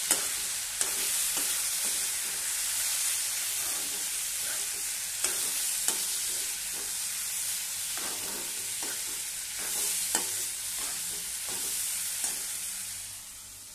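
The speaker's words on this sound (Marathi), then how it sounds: "बघा हळद चांगली पहिली आपल्याला एकजीव करून घ्यायची आहे" Spoon scraping and stirring turmeric into masala in a hot pan, with soft sizzling underneath and repeated sharp taps against the pan's edge, close and moderately quiet, with no talk.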